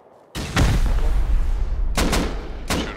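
Gunfire during a raid in the Rust video game: a loud opening blast followed by sustained booming, then two quick shots and another single shot, close and heavy with no talk.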